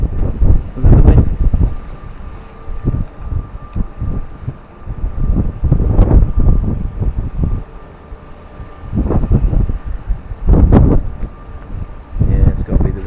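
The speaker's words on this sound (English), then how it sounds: "Yeah, it's got to be the wind." Wind gusting over a fishing boat at sea, rising and falling in rough rumbling buffets against the microphone, loud and close, with someone speaking in between the gusts.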